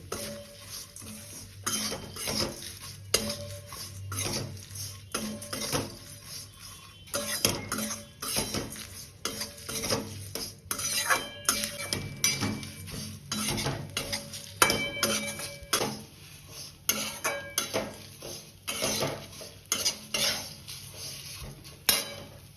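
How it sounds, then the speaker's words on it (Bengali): Flattened rice (chira) gets stir-fried crisp in a pan with turmeric, and a spatula scrapes and clatters against the metal in quick, irregular strokes over a soft, steady fry, with no voices. "তারপরে মুড়মুড়ে করে ভেজে নিই"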